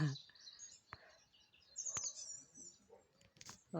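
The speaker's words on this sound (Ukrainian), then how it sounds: "О-о, малесенька пташечка тут." A small bird chirps in a tree with bright, high tweets in short bursts, fairly near and clear, while a person speaks quietly at moments.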